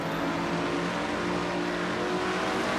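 A race car engine drones steadily from the in-car view during an NNSCRA Castrol GTX Cup Series sim race, a constant loud roar with no commentary heard.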